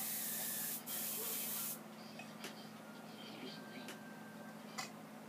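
A spray paint can hisses onto paper while a comic cover is painted, a loud steady spray for under two seconds followed by quieter short rubbing and ticking sounds.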